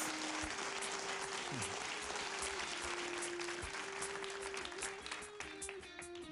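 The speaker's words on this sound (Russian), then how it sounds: "Ну же, давайте аплодировать." An audience at a Christian worship gathering applauds in a dense, sustained wash of clapping that fades slightly near the end, with a steady ringing tone running underneath.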